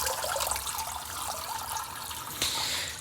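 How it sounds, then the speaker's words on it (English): A freshly scalded chicken is plunged into a pot of cold water, giving a steady splashing, sloshing wash of water that runs throughout, with a brief brighter swish near the end. "I'm gonna quickly dip him in a pot of cold water."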